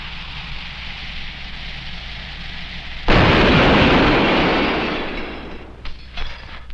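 A sudden loud explosion bursts in after a steady hum, then a long rushing, crackling roar that slowly fades, with a few later pops and rattles.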